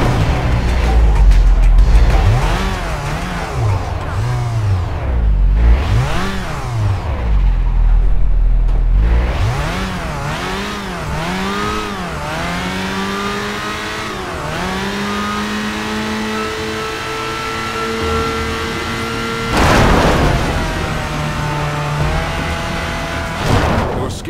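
An agency vehicle in Crackdown revs loudly and close, its engine surging up and down in a run of quick swells before holding a long high rev, then one sharp burst near the end.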